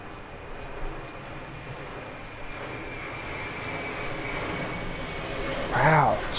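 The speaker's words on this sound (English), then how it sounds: "Wow, so many planes tonight. This is like an unprecedented amount of air traffic." An airplane flies overhead at night, a steady distant rumble that swells louder toward the end, mixed with other faint sounds in the room.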